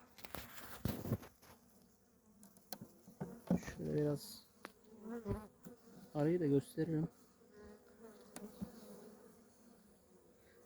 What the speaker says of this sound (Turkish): Bunlar zayıf arı demiştim.